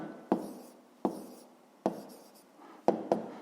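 Pen strokes on paper as lengths in metres are written down for a fifth-grade maths exercise: five short, sharp scratching taps spaced about a second apart, quiet and close, with no voices.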